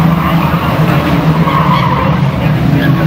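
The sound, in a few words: race car skidding sideways down the track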